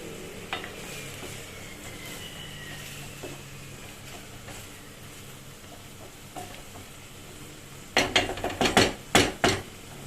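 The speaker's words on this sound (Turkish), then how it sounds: "soğanlarımızı da iyice kavurduk" Onions sautéing in a pan hiss softly and steadily, then a burst of scraping, clattering utensil strokes against the pan comes near the end, with no talking.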